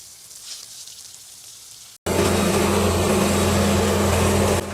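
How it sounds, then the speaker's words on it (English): An LT70 Super Wide hydraulic sawmill cuts logs, starting after a quieter stretch with an abrupt, loud, steady mechanical roar that carries a droning engine hum and holds unbroken to the end. "the entire system of the LT70 Super Wide hydraulic saw appears powerful and precise"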